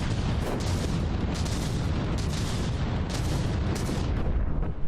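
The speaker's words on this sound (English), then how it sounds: "The shells keep popping in, but too many turrets are still alive." Artillery shells firing at turrets in the naval combat game From the Depths make a dense, continuous barrage of booms and rumbling blasts, some louder strikes standing out from the steady roar.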